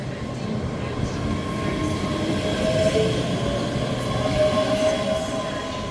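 A Scotrail passenger train pulling out of Edinburgh Gateway station, a steady low rumble of wheels and motors with faint squeals from the rails, heard from the platform at moderate distance.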